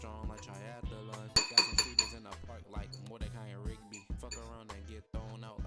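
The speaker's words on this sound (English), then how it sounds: "You want to keep stirring until there's no more actual egg" Utensil clinking against a pan while scrambled eggs are stirred, scattered light clinks and scrapes heard close beneath a person talking.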